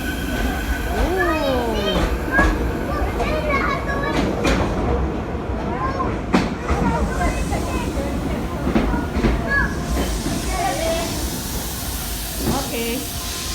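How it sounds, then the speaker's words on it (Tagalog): A train rolls past a daycare in Japan, its wheels and cars rumbling and squealing nearby while children chatter and adults talk over it. "There's another train coming."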